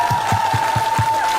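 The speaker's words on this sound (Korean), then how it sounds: "어머님의 쾌유를 위해서 다 같이 한번 크게 박수 쳐주십시오." An audience claps together in a quick, even rhythm of about five claps, close and loud, with a steady tone running under them.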